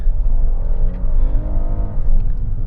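A 2026 Hyundai Palisade XRT engine pulls hard in sand mode, a loud, continuous close-up drone of acceleration with dense rumbling and no talk.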